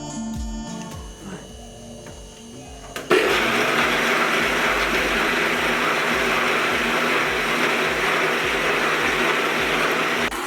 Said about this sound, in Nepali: हामी यसलाई अब पिस्न गइरहेका छौं। यो मिक्सरमा सबै